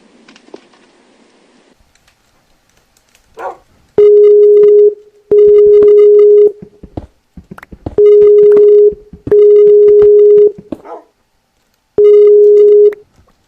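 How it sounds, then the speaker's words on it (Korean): A phone ringtone for an incoming call in a Minecraft mod game, sounding as a bright steady electronic tone in five repeated bursts with short gaps, loud and clear, with some soft clicks and noise before it starts. "너 머독이 형 어떻게 머독이 나한테 전화했어"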